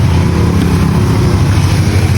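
Portable power spray washer running loud and close for a motorcycle wash, a steady motor hum with a hissing spray that holds constant and cuts off at the very end, with no talking over it.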